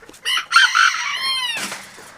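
A farm rooster lets out one loud, close cock-a-doodle-doo, its drawn-out crow trailing off, followed by a brief rough cluck.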